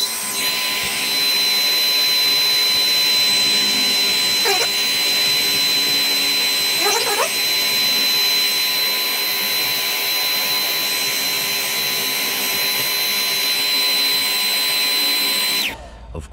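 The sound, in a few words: hair dryer heating a sticker off a Porsche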